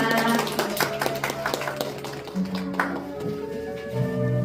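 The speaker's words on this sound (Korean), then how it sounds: "다시 한번 박수 부탁드립니다" Young children's kindergarten graduation ceremony at a primary school annex, with scattered clapping from parents and guests in a room under a steady background hum, brief tonal announcement sounds and voices mixed in.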